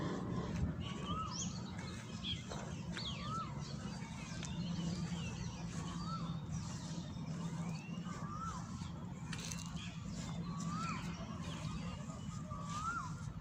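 Birds calling in a small city park on an early weekday afternoon, a repeated rising chirp every second or so over a low, steady hum of distant traffic.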